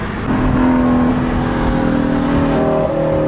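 A Tesla Model 3 launching from a brake boost start, its steady electric whine rising in pitch as it accelerates, loud and continuous with a faint whirring tone stepping upward near the end.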